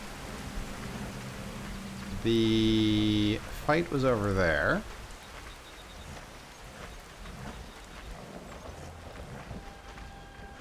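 Steady rain from a thunderstorm in the video game Skyrim hisses faintly and evenly throughout, with a brief tonal game sound and a short spoken line over it midway.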